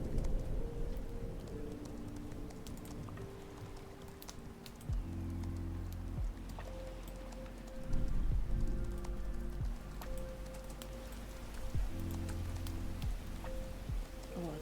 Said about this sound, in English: Oh, there's the rain south.